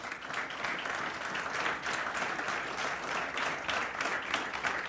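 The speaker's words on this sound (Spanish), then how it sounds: "Denle un aplauso a Dios." Steady applause from a church congregation, many hands clapping in an even, continuous wash at moderate loudness with no voices over it.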